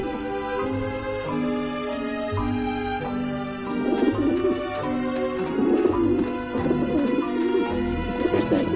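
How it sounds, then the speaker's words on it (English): Pigeons coo repeatedly in the video game Grim Fandango, with soft rolling calls over a sustained tonal game backdrop that swell in the second half. "get past the pigeons."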